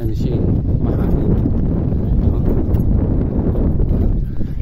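Strong wind buffets the microphone in a continuous roaring rumble, loud and close throughout.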